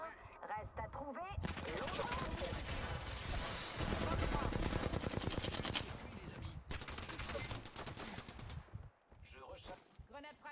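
Loud, dense automatic gunfire rattles in the video game Apex Legends, long bursts with short pauses between, and a player speaks French over the shooting.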